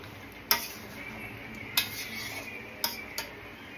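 A spoon stirs meat curry in a pot, with four distinct clinks of metal against the pan spaced over a few seconds above a low steady background hiss.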